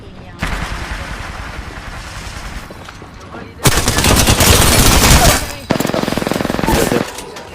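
Gunfire and grenade blasts in the battle-royale shooter Apex Legends: a steady volley of shots, then louder sustained bursts of automatic fire with a brief gap between them. Close and dense throughout, with no talk.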